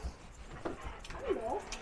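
An excited dog whimpers and whines in short, rising pitched cries, close by, with some quiet movement around it.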